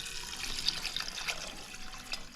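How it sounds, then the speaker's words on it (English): Tap water runs steadily into a jar of pinto beans and bacon being readied for a Presto digital canner, a continuous close splashing fill with no talking. "we are going to fill this up with water"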